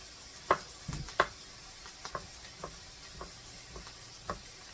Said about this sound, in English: I'm going to chop up the rest of these